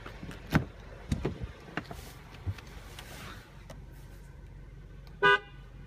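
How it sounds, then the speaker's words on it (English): A brief horn honk from a 2015 Mercedes C300 sounds near the end, clear and fairly loud, after some scattered clicks and thumps around the car. "The horn is actually pretty loud for a car this size."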